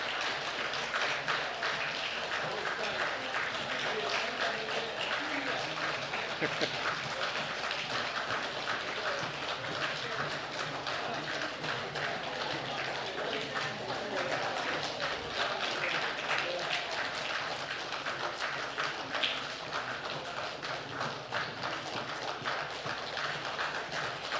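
Sustained applause from a church congregation welcoming new members at a Sunday service, a dense steady clatter of many hands filling the room for over twenty seconds with faint voices underneath.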